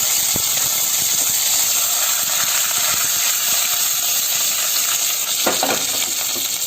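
Cumin seeds and curry leaves with mustard seeds sizzle in hot oil for beetroot sabzi, a steady bright crackling hiss running throughout with a brief louder spatter near the end.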